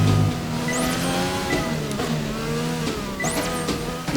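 A Formula 1 car screams along a track in F1 2020. Its high-revving engine whines loudly, rising through the gears and dropping sharply at each upshift, about three shifts in four seconds.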